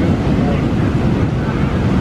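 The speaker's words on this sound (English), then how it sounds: "the noise the big waves make" Loud, constant roar of big ocean waves and wind buffeting the microphone in Bali, a dense broadband wash with no distinct individual crash.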